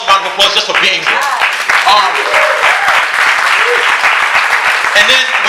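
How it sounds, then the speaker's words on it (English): Audience applause at a spoken word event, dense and steady for the whole stretch, with voices cheering and calling out through it. "give yourself a round of applause just for being here"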